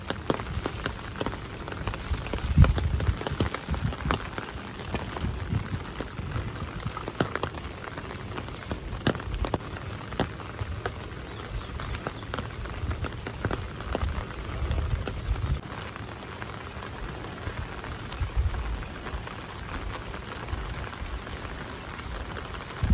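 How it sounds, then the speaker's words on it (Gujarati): Steady rain falls throughout, a dense wash of drops pattering on surfaces with scattered louder hits, continuous and fairly close, with no voices. "વરસાદ ચાલુ છે."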